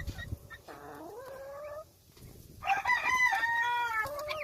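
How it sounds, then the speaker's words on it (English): Baby guinea fowl chirp in short, high, rising peeps in a farmyard during winter, with a few separate bursts of calls near the microphone and brief quiet gaps between them. "Some baby guineas."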